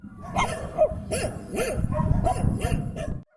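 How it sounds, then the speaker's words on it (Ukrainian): Several dogs at an animal shelter near the front line bark in a rapid, steady run of loud yaps and woofs close by, then stop abruptly. "З порогу собачий гавкіт."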